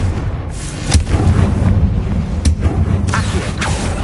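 Confringo explosive spell cast in the video game Hogwarts Legacy: loud booming blasts land in quick succession over a dense, rumbling battle-noise bed, with sharp cracks roughly every half second to second.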